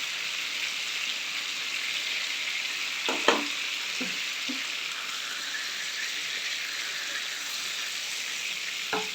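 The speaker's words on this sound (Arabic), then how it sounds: "هنزل بقى بمعلقه الزبده الحلوه دي كده، اخليها تسيح برده" Butter melts in a hot pan with a steady, close sizzle and frying hiss while a garlic sauce for chicken panné and pasta is being made; a few sharp utensil scrapes and clicks break through the sizzle.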